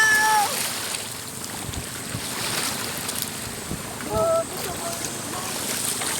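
Continuous engine drone and rushing water of a boat moving across the sea off Pangasinan, Philippines, with wind buffeting and a few brief voices.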